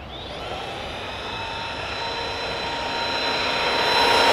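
An ARRMA Kraton 6S V4 RC car on a speed run pass, a steady high-pitched motor whine with broadband rush that builds gradually louder as the car approaches, heard alone.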